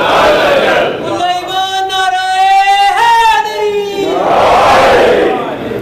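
A congregation at a Shia majlis chants a slogan in unison, a loud sustained collective cry of many voices that rises and holds, with crowd noise before and after.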